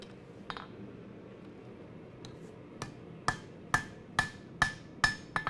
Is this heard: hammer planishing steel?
yes